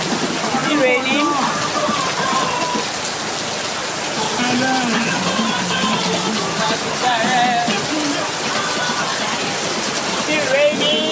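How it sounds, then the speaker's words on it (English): Rain falls steadily in a dense, continuous hiss and patter outdoors. Faint voices or chirps drift through the background. "It's raining, you can see."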